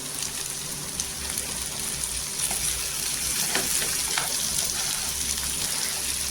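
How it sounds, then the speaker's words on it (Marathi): Potatoes frying in oil for a Maharashtrian potato bhaji give off a continuous crackling sizzle close by, with a few sharper spatters and stirring clicks partway through. "आता बटाट्यांना 2 मिनिटं छान अशी तेलावर परतून घ्यायची"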